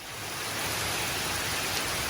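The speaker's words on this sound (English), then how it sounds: "so that Reed can enjoy swimming in the rain." Rain falls steadily and fairly loudly, a dense even hiss that swells slightly in the first moments and then holds, with no voices.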